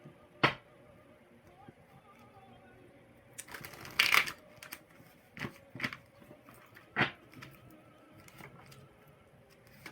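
Angel cards being shuffled in short bursts, with a louder riffle in the middle and scattered soft taps and slaps, close and fairly quiet.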